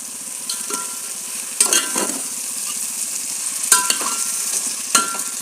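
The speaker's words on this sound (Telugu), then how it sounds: "కొంచెం పెరుగు వేస్తున్నాను" Yogurt spooned into a pan of frying vegetables and rice for vegetable biryani, with a steady sizzle under scraping stirs and a few sharp clinks of a spoon against the pan.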